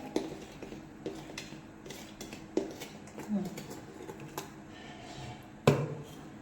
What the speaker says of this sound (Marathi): आता हे मी असंच हाताने मिक्स करून घेत आहे जेणेकरून शुगर आपली वरती उडणार नाही